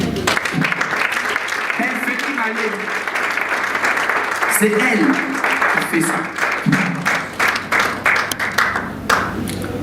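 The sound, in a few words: audience applause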